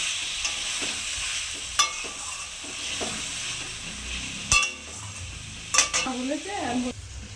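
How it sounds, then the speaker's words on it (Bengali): Potatoes sautéed and stirred in a pan for a Bengali egg-and-potato curry: continuous sizzling hiss under intermittent spatula scrapes and clinks against the pan, close up, with no speech. "একটু ভালো করে কষিয়ে নেবো তরকারি"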